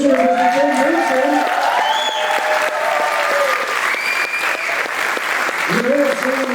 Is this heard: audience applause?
yes